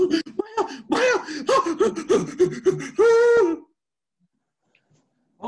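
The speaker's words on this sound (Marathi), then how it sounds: "श्वास" A man in a dramatic scene gasps and moans as he struggles for breath. A run of strained, voiced gasps rises into one long drawn-out cry, then everything drops into silence.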